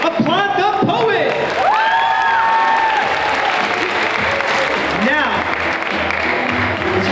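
A high school audience at a 9th grade poetry slam applauds and cheers a poet, with loud sustained clapping, whoops and shrill shouts filling the room while a voice speaks briefly over the crowd.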